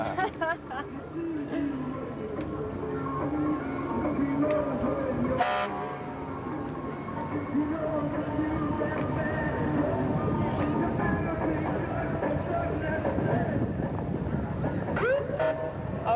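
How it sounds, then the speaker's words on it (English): A Whitney Fire Department fire engine's horn and siren wail in the distance at a holiday parade in Boise, over a rumbling background, with people talking throughout. "what you're hearing there is a fire engine from the Whitney Fire Department"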